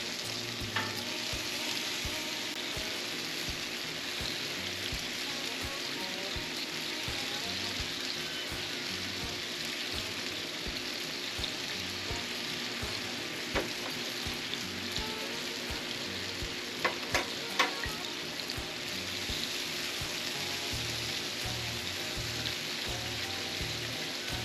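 Brined, rubbed, butterflied chicken legs coated in barbecue sauce sizzle on a griddle with a dense, continuous hiss and crackle, broken by occasional sharp scrapes or taps of a spatula.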